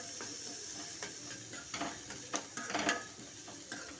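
Onions, cumin, coriander and curry leaves frying in oil make a faint, soft sizzle, with intermittent scraping and stirring clinks from a utensil against the pan, and no voices.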